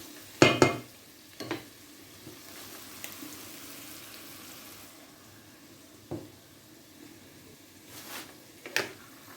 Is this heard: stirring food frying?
yes